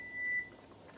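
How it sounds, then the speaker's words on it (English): A kitchen timer sounds while bone-in chicken breast is pressure canned on a stovetop burner, a single steady electronic tone lasting under half a second over a quiet room hum. "There's the timer."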